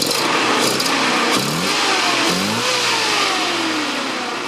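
A 1968 Datsun Roadster's 1600 dual-carb engine revs loudly nearby, climbing and falling through a few throttle blips over a rough running rumble, with no one talking.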